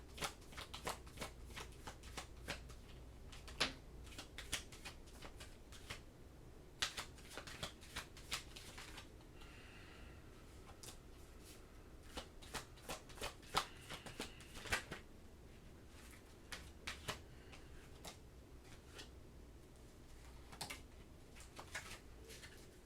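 A deck of tarot cards being shuffled close up, with repeated crisp riffling bursts and soft flutters in an irregular rhythm, with no talking.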